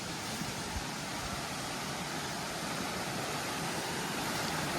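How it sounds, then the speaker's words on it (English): A mountain stream carrying runoff rushes in a constant, dense, full-bodied roar of flowing water, steady and close with no breaks. "A good bit of water coming off the mountain."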